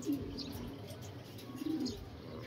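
Pigeons kept by a fancier give soft, low cooing while being given water laced with calcium, a steady murmur with a couple of louder swells, and no one talks.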